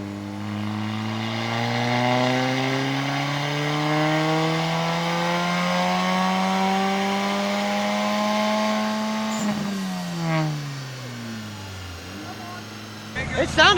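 A turbocharged Honda car engine revs on a dyno, climbing in a long steady pull to a loud high-pitched wail over about nine seconds, then drops off and settles with smaller blips before a final burst.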